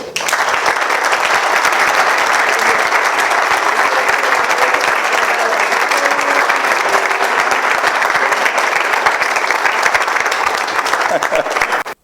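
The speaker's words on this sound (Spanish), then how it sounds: "Yo digo el nombre y vosotros aplaudís" An audience at a training talk breaks into loud, sustained applause that holds steady for about twelve seconds without a break.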